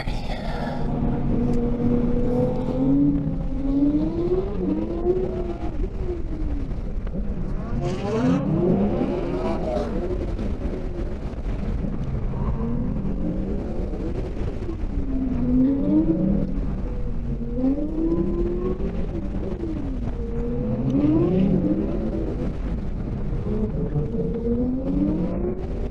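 A 2019 Ford Mustang GT V8 lapping a race track, the engine droning steadily from inside the cabin as it repeatedly revs up and eases off through the corners, with brief talk over it.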